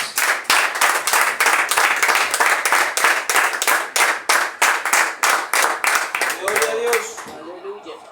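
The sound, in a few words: congregation applauding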